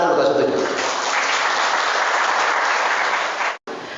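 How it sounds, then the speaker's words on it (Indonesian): Audience applause at a talk in Indonesia, a dense wash of clapping that holds steady and loud for several seconds, then cuts out abruptly near the end before a brief return. "Tepuk tangan dulu kalau setuju"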